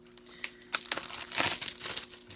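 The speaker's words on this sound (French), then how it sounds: "On va déballer ceci, toujours pour vous montrer l'intérieur." Plastic film being peeled and torn off DVD and Blu-ray packaging, a close series of sharp crinkles and crackles in irregular bursts, heard alone over a quiet background hum.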